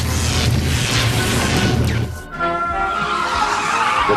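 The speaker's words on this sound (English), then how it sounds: "The cells! They'll all explode!" Energy cells explode in the G1 Transformers cartoon: a sustained, roaring blast of noise that suddenly cuts into a ringing, tonal tail.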